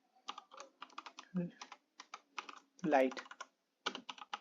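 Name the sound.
typing on a computer keyboard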